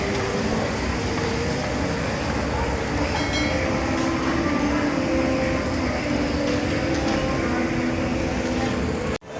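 A metro train runs at an Istanbul metro station, giving a steady, loud rumbling roar with faint clatter throughout that cuts off abruptly at the very end.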